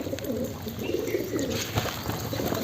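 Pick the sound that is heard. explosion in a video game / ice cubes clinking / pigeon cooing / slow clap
pigeon cooing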